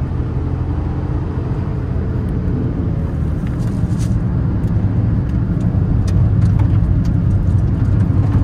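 A car being driven around the Tokachi Speedway circuit, with a steady, loud engine and road drone that holds throughout at close range, without talk.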